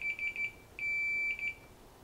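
A multimeter beeping during a continuity check on a Blues Deluxe guitar amplifier circuit: a run of short, quiet electronic pips, then one longer sustained tone, then a few more short pips.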